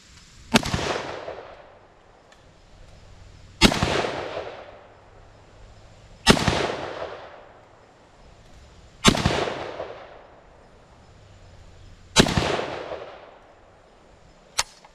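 Five loud rifle shots ring out at even intervals a few seconds apart, each a sharp crack with a long decaying echo outdoors, fired while testing a Riton X3 Tactix red dot optic.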